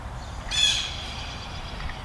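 A single bright bird call rings out briefly in a spring garden, fairly faint against a quiet outdoor background.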